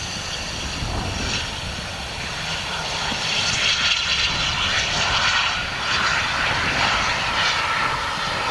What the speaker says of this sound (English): There we go, a nice little private jet coming in here now.